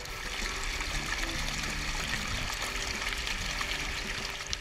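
Water rushes steadily at Hawili Falls in Aklan, a waterfall with seven natural basins, giving a dense, unbroken roar of flowing and splashing water that stays even and fairly loud throughout.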